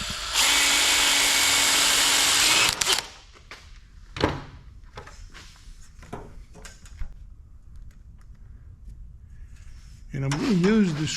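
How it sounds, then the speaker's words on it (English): A power drill pre-drilling pallet wood whirs loudly for a couple of seconds, then stops; scattered clunks and handling noises follow before a brief second burst of drilling. "So when I pre-drill this about right here,"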